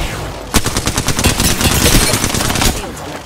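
Loud, close automatic gunfire from an Apex Legends match rattles in rapid bursts that run almost continuously for several seconds.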